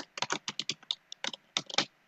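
Fast, irregular clicking of keys on a computer keyboard, close and fairly quiet, in quick bursts with short pauses and no voices.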